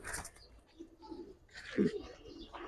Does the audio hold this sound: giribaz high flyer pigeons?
yes